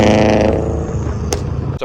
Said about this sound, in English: So I love the Subi rumble.